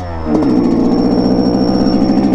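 Yamaha YZ125 two-stroke dirt bike engine revving steadily, a thin high whistle from a taped turbo-style exhaust whistle riding above the buzzing harmonic drone, loud and close after a brief softer start.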